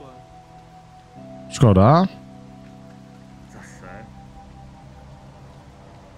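Rain falling in the video game HOBO: Tough Life, a soft, steady hiss beneath a low hum, with a short burst of speech and a quieter voice partway through.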